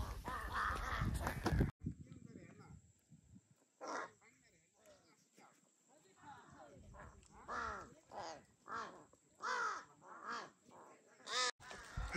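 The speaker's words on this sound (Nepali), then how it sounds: "काग" Crows caw repeatedly, many birds near and far, as grain and water are scattered for them at a hilltop view tower in Dang, Nepal; calls come in irregular bursts, with a voice and a brief dog-like bark early on.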